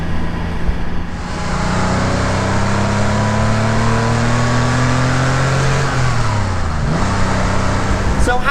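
A classic Porsche engine pulls steadily under acceleration while driving, with rising harmonic tones, a gear change around the six-to-seven second mark, then the revs climb again; loud and close, with no speech.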